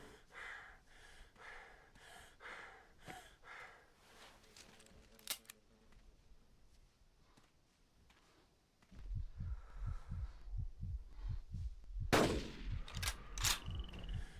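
A hunting rifle fires in the Carnivores dinosaur-hunting game, giving sharp, loud reports that stand out over quieter ambience and a low, rhythmic thumping.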